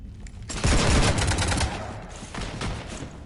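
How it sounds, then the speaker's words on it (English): Sustained heavy gunfire rakes a ship in the video game Mass Effect 3, a loud dense burst of rapid shots that eases slightly and then swells again, with no voices over it. "You want to stop shooting up my ship?"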